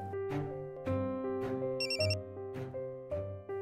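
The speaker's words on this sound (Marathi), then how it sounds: "लावलाय फोन." A phone rings with a repeating electronic ringtone in a Marathi TV serial scene, pulsing in a steady rhythm and fairly soft, with no talk over it.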